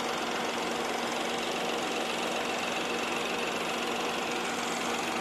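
The small 3-cylinder engine of a 2016 Ford Fiesta idles with a steady, even hum and faint ticking, constant and unchanging throughout, with no talk.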